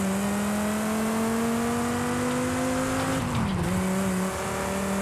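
A Dodge Charger's engine drones steadily in Forza Horizon 5, its pitch climbing slowly, then dipping sharply with a brief tire screech before settling back to a constant roar. The sound is loud and continuous, with no voices.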